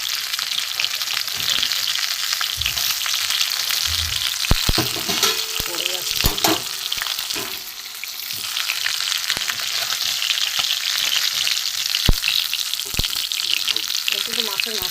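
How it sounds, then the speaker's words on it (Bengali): A bhola fish head fries in hot oil with bay leaves and dried red chillies, giving a steady loud sizzle throughout with occasional scraping and stirring clatter, and no voices. "মাছের মাথা দিয়েছিলাম, এটা একটু ভেজে নেবো ভালো করে"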